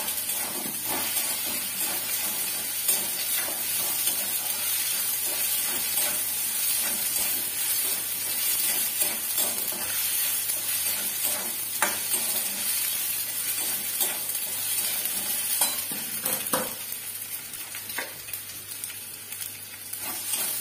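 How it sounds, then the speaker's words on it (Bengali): Fried potatoes sautéed in a pan while cooking chana dal, giving a steady, dense sizzle and hiss that runs unbroken throughout, close and moderately loud, with only a few faint stirring scrapes and no talking. "এর মধ্যে আলু ভাজাটা দিয়ে ভালো করে কষিয়ে নেব।"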